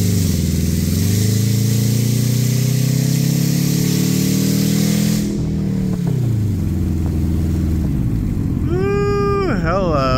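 Subaru engine misfiring at upper rpm, loud and close, revving up in rising steps, holding, then dropping and stumbling, with a final quick rev burst near the end.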